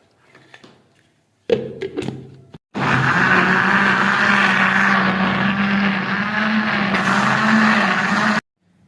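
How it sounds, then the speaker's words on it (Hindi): A blender motor starts with a couple of short bursts, then runs loud and continuous for several seconds, grinding garlic with a little water before cutting off. "इसको अब हम ग्राइंड कर लेंगे थोड़ा सा इसके अंदर पानी ऐड करके"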